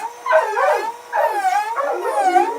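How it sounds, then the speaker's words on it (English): Several dogs howling and whining together in long wavering cries, rising and falling in repeated waves, loud and close with no talking. "The dogs make that sound"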